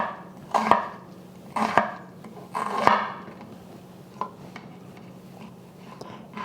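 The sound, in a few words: knife slicing an onion from top to bottom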